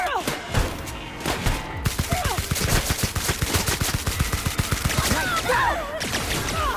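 Rapid bursts of automatic gunfire in The Outer Worlds video game, a sustained run of closely spaced sharp shots over a few seconds, loud and near, with game effects layered around them.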